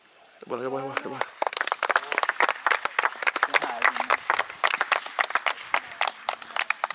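Audience at a curling match in Hudiksvall applauding player Emma Östling, dense rapid clapping from a crowd that carries on after a brief cheer, with a commentator's voice over it.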